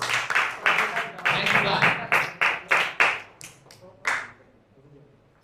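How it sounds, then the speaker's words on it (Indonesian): An indoor audience claps in a burst of loud, close applause that thins into a few separate claps and dies away within seconds, while a voice speaks briefly. "Kasih aplaus lah gitu ya."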